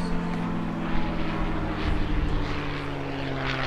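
A North American P-51 Mustang warbird at a Jones Beach airshow parade of warbirds, its propeller engine droning loud and steady as it passes, with faint talk underneath.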